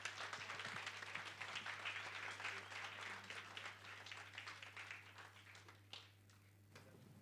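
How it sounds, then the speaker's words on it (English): An audience claps for panelists at an education forum, a moderate, steady round of applause over a low constant hum that thins out near the end. "Let's give a round of applause to our panelists"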